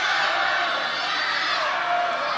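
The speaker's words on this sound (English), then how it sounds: "Somebody keeps shouting from the crowd at Ian McGregor" A wrestling crowd roars steadily, with a spectator's shout rising out of the loud, continuous din of cheering and whooping voices.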